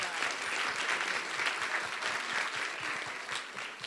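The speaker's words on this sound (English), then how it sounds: "Big round of" A conference audience breaks into a big round of applause, many hands clapping evenly and continuously at moderate distance, without voices over it.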